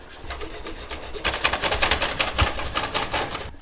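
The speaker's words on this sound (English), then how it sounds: "Fresh ginger. Well, it's not fresh, it's frozen. But I'm going to grate it in." Frozen ginger scraped across a grater in fast, steady, rhythmic rasping strokes, close and fairly loud, speeding up toward the end, with no talking.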